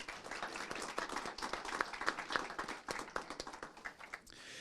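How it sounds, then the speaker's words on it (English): An audience at a Moreno Valley city council meeting applauds police officers, a dense patter of many hands clapping at moderate distance that holds steady, then thins toward the end. "if we could give all of our officers one more round of applause as well, please"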